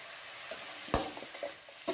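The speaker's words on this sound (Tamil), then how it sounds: "நம்ம நறுக்கி வச்சிருக்க தக்காளி சேர்த்துக்கலாம்" Chopped tomatoes stirred into sautéed onions in a pan, a soft steady sizzle with a few scraping spoon strokes and light clinks, close by.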